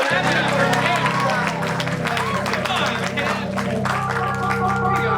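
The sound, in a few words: audience clapping for a volunteer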